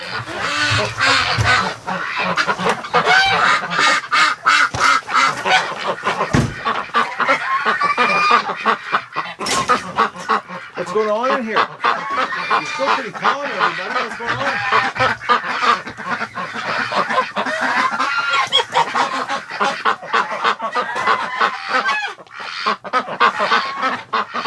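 A flock of wintering ducks and geese at a lake honks, quacks and squawks loudly and continuously nearby, a dense overlapping clamour, while someone talks briefly over the birds.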